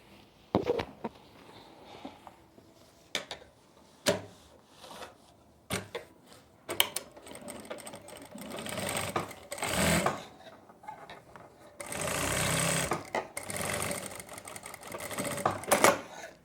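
A sewing machine stitches the hem of palazzo pants in intermittent bursts of close, rattling motor sound, with longer runs near the end, broken by clicks and fabric handling.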